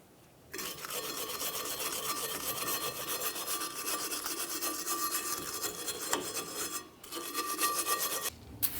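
Brisk rhythmic scrubbing on the shoe contact pads of a rear brake backing plate on a 2010-2013 Ford Transit Connect, a continuous raspy rubbing with brief pauses near the end, close and alone.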